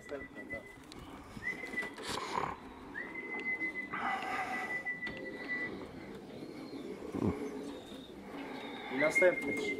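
Racing pigeons arriving at a loft during a club race flight in Poland coo softly and intermittently, with wing and rustling noise, while people talk throughout.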